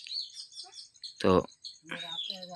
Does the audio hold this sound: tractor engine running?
no